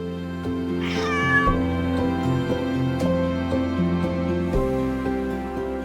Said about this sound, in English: For 16 years, a cross-eyed grey cat named Glee lived inside Hagia Sophia